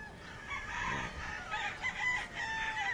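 A super brown red gamefowl broodstag crows in a short, strained call over a steady outdoor background, fairly close and moderately loud.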